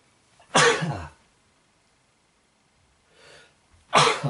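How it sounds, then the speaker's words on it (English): Two loud sneezes, one near the start and another at the end, each a sharp burst with a quiet breath between them. "I'm going to sneeze."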